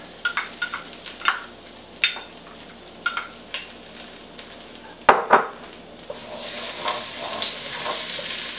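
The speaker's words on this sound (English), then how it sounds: "we can carefully add in our garlic and our ginger" Garlic and ginger dropped into melted coconut oil in a pan, with a few light scrapes and taps, then a sharp clatter and a steady, rising sizzle of frying close by, with no talk.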